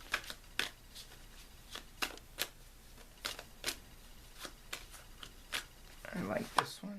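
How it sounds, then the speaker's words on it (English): A pile of tarot cards is shuffled by hand, giving soft, quick riffling bursts in an irregular rhythm, close and quiet, ending in a slightly longer flurry of shuffling. "I'm going to pick up the first pile and shuffle"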